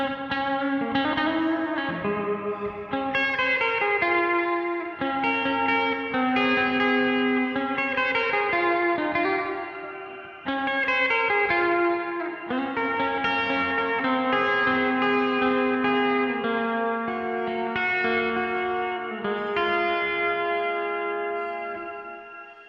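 Electric guitar played through a NUX Duotime dual delay pedal, melodic notes trailed by overlapping echo repeats that blur together, continuous and close with no talking.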